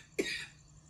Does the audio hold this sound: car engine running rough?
no